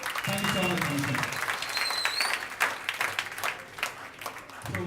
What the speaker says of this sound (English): A round of applause to Manisha.